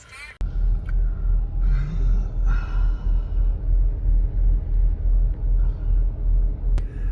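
A car engine idles while warming up, giving a close, steady low rumble that throbs evenly throughout after a sharp click at the start, with faint sounds from the surroundings now and then.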